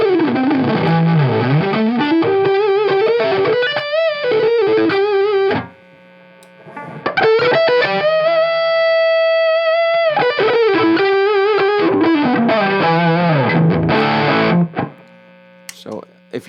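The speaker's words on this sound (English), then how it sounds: "So if you like the sound of the Angry Charlie going into the this 808 circuit" Distorted electric guitar running through a JHS Angry Charlie into a JHS 808 overdrive pedal, loud chords and single-note lines played steadily with a short pause in the middle before the playing resumes.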